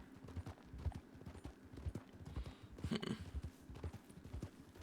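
Steady clip-clop of horse hooves at a trot in a video game, moderately close, with a brief snort or whinny midway over faint ambient background.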